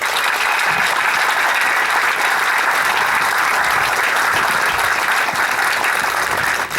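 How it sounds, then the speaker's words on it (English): Sustained, loud crowd applause at an exhibit event, steady clapping from many people continuing without break for several seconds. "Round of applause."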